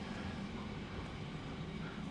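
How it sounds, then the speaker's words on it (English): A long freight liner train rumbles past behind a canal towpath, a steady broadband roar that holds evenly throughout, with no speech over it. "a lengthy freight liner train behind me."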